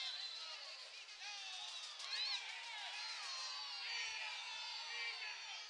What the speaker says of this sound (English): Crowd does not like that call.